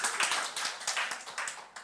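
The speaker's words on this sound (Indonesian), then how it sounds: "berikan tepuk tangan dulu dong buat Ailia" Congregation clapping during a church worship service, a steady run of many hands applauding together for nearly two seconds, fairly close with no voices over it.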